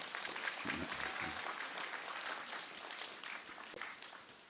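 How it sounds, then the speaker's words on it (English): Gala and awards ceremony audience applauding a former Calypso monarch: steady, moderately distant clapping from a sizeable crowd, with faint voices early on, fading slightly toward the end. "Can we give him a round of applause, please?"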